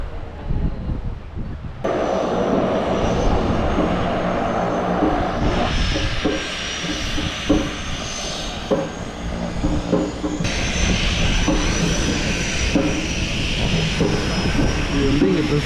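Small propeller plane passing close by in the Maldives, a steady loud engine drone with rising and shifting tones that swells and holds throughout, with people talking over it.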